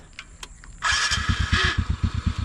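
A motorbike engine cranks and catches, then settles into a loud, rapid idle putter close by.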